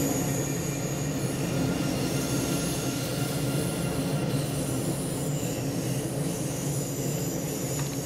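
An ICE BR 403 train in Train Sim World 2 hums along steadily, with continuous rolling rail noise, faint wheel squeal and a constant even drone, heard from inside with no talking.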